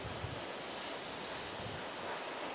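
A waterfall pours in a steady, loud, broadband roar of rushing water, continuous and without pauses or voices.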